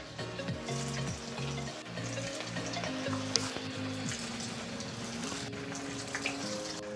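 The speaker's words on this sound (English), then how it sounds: "Now we're going to deep fry them for 2 to 3 minutes until the snack balls are really crispy and golden brown" Chicken meat balls deep frying in hot oil, a continuous bubbling, watery sizzle heard up close with no talking.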